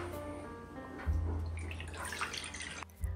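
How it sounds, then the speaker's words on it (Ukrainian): Warm water pouring into a mixing bowl while making dough for Adjarian khachapuri, a short close splashing pour that swells and then stops abruptly. "в мисці змішуємо теплу воду"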